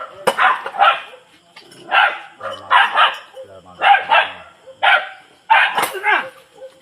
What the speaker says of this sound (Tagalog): Nakatali yung aso ko!